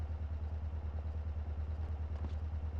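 A moped engine idles with a steady low rhythmic putter, faint and even throughout with no voices over it.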